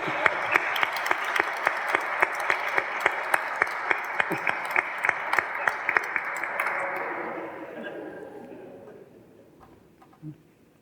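Congregation at a Chrism Mass in the diocese of Amos applauding the priests: steady, dense clapping from a large crowd in a resonant church, fading out toward the end with a lone sharp knock near the close.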